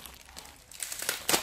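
Small plastic packets holding face masks crinkle and rustle close up, a soft scrunching that grows louder in sharp bursts toward the end, with no talking.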